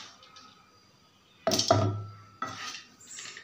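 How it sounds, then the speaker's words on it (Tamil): Ingredients for Tamil-style kola urundai dropped into a mixie jar: a couple of close, sharp clattering knocks of food and utensil against the jar, with quiet kitchen background between them. "ஃபஸ்ட்டு எல்லாத்தையும் மிக்ஸி ஜாரில் எடுத்து போட்டு"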